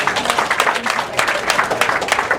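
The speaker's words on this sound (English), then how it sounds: "give yourself a round of applause" A classroom audience gives itself a round of applause, a dense burst of many hands clapping close by with steady, overlapping claps throughout.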